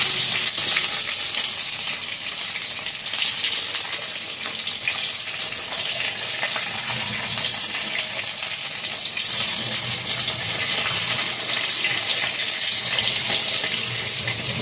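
Hilsa fish tails fry in mustard oil with a loud, dense, unbroken hiss that runs steadily throughout at close range.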